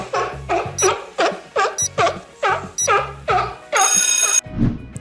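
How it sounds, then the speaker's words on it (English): A seal calls in a series of about nine short, pulsing barks at a fairly even rhythm, close and clear, over light backing music with chimes and a bright burst near the end. "Yes, a seal."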